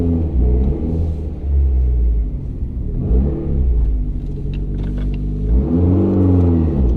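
Mitsubishi Evo X with a GTX3582 Gen2 turbo and built head idles with a slightly lopey, uneven rhythm, a loud steady low engine rumble that swells and dips in periodic surges, close to the microphone with no talk.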